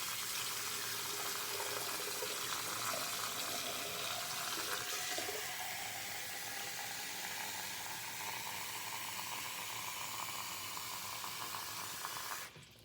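About two cups of warm water pour steadily into a container for mixing, a continuous close hiss and splash that lasts almost the whole time and then cuts off abruptly.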